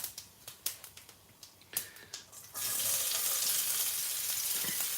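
Fennel seeds and kasuri methi drop into hot oil for a biryani, bringing on a sudden, loud, steady sizzle that follows a few scattered taps and clinks.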